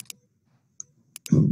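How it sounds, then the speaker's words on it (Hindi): A computer mouse clicks a few times, sharp and isolated against near silence, while working in Power BI software; a voice begins speaking right at the end. "सोर्स टाइटल पे क्लिक किया"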